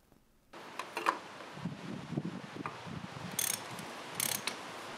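A ratchet wrench clicks in quick bursts while tightening the oil filter housing on a VW Golf 2.0 TDI during an oil change, heard close up and fairly quiet, with short pauses between the strokes.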